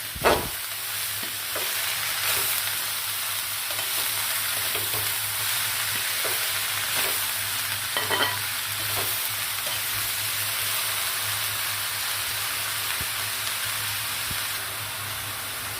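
Shredded cabbage frying in a pan, a constant loud sizzle with a steady hiss and the occasional scrape and clack of a spoon stirring, close up and with no voices.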